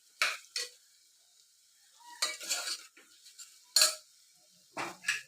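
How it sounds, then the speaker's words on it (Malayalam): Vegetable biryani ingredients being stirred and roasted in a pot, a few separate bursts of spoon scraping and clinking against metal with light sizzling, between quiet pauses. "ഇളക്കി മൂപ്പിച്ച് എടുക്കണം."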